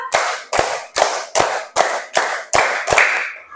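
A class of fifth-grade children claps in unison during a counting game, with eight crisp, evenly timed group claps about half a second apart and no talking.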